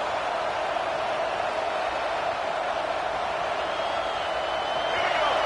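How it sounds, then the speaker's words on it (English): A college football stadium crowd roars steadily through the whole stretch, a dense distant wash of cheering in a large open venue, with a commentator's voice running over it. "And the crowd coming to life here"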